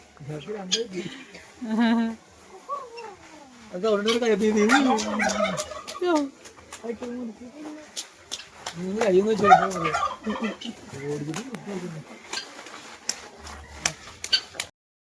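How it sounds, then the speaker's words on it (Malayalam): Chickens of many varieties gobble and cluck repeatedly, several birds calling in bursts close by, with some human voices mixed in. "പല വെറൈറ്റി ഉള്ള കോഴികൾ"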